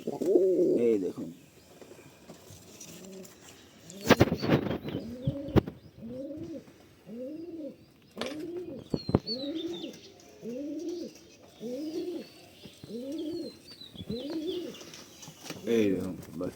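Young pigeons coo close by in a steady series of soft, rounded calls, one after another, with a few knocks and thumps mixed in between.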